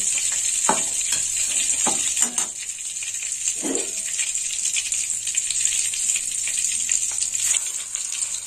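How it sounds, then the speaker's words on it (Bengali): Cooking oil sizzles steadily in a pan, ready for frying whole eggs, a dense close hiss broken by a few soft clinks and stirring knocks. "এই তেলেই আমি ডিমটা ভেজে নেব।"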